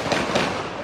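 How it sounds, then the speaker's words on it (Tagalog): Gunshots ring out during a police shootout with suspects at the Ever Gotesco mall: two sharp, somewhat distant bangs in quick succession over a noisy background. "rinig pa kayo ng mga tunog ng mga baril"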